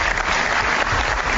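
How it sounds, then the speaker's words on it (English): At the Bathurst motor race in 1989, a dense, loud roar of crowd noise fills a brief burst without pause, like a grandstand crowd cheering together. "We'll hear the crowd erupt again through here."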